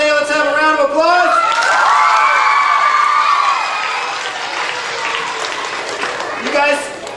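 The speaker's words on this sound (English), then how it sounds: "Let's have a round of applause" Young children clap and cheer after a solo performer's show, with loud shouts and high-pitched whoops rising over the applause before it settles into scattered clapping and chatter.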